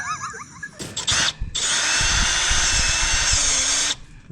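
A power drill whines in two short bursts, then runs steadily for about two and a half seconds while boring a hole. The sound is close and loud with no talking, and a dog whimpers faintly near the start.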